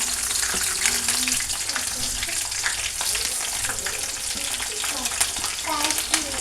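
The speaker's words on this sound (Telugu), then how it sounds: "ఆయిల్ వేసిన ఇప్పుడు పచ్చిమిర్చి అన్నీ వేసుకుంటున్నాను" Green chillies frying in oil in a pan for lemon rice (pulihora), a dense continuous sizzle and crackle that stays close and loud throughout, with faint stirring.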